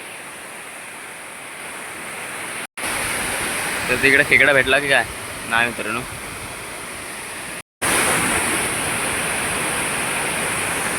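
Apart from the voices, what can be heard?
water falling down a waterfall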